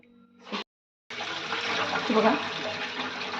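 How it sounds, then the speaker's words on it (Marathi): Grated potato being rinsed in water for a traditional fasting-style potato kis, with steady splashing and sloshing after a brief pause, close and fairly loud; a short spoken word comes near the start. "तर आता आपण हे स्वच्छ पाण्याने धुवून घेऊया"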